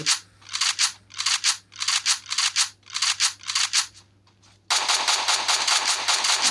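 Gunfire from the video game Free Fire rattles out in rapid repeated bursts with short gaps, then breaks into one long sustained stream of loud automatic shots.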